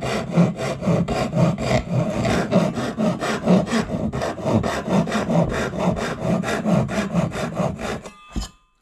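A handsaw cuts wood using its finer-toothed side, giving steady rhythmic rasping strokes, loud and close, that run continuously for several seconds before stopping.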